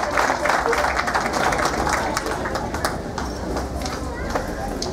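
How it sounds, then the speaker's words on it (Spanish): Applause from an audience at an outdoor symphonic band festival honoring a guest, a dense steady patter of clapping that carries on evenly with faint voices mixed in. "Vamos a darle un aplauso al señor Tenorio"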